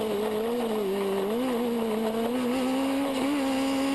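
A pro buggy off-road race car's engine screams on a desert race course in Las Vegas. The high, continuous whine rises and falls with gear changes and throttle over about four seconds, fairly close and loud.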